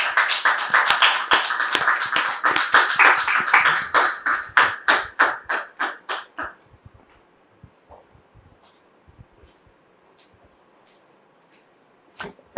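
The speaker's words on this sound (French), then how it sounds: "recevoir Maman Hélène et Monsieur Donatien sous vos applaudissements, s'il vous plaît." Audience applause at a French-speaking ceremony welcoming two guests, a dense burst of many hands clapping loudly that thins into scattered claps and fades to near silence after about six seconds, with a few stray claps at the end.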